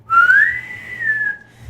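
A person whistles in imitation of a starship bosun's whistle: one loud, close, sustained tone that slides upward, holds, then dips slightly and fades, all in under two seconds.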